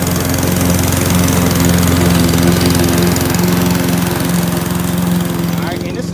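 A lawn mower runs steadily and loudly nearby while scalping a Bermudagrass lawn down, its engine droning without a break.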